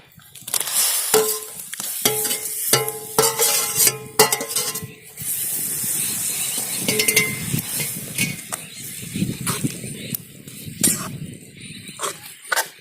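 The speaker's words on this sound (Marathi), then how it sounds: "आता आपण भाजी टाकू" Chickpea greens hit a hot pan and fry with a steady sizzle, broken by repeated scraping and clinking strokes of a spoon stirring them, close and fairly loud throughout.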